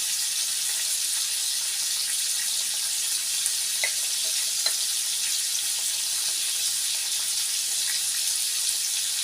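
Fish fries in a pan with garlic, cumin and curry leaves, giving a continuous loud, even sizzling hiss at close range with no talking.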